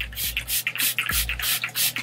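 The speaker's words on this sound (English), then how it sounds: "I'm gonna take the spray bottle, it's just water in it." A spray bottle of water hisses several quick bursts of mist onto hair in an uneven rhythm, close by, with soft handling sounds between the sprays.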